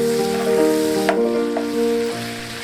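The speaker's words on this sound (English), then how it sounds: "Some oil into the pot. Add the onions and let them brown." Onions browning in oil in a pot give a steady close sizzle under a sustained tonal background, with a couple of brief clinks of stirring and no talk.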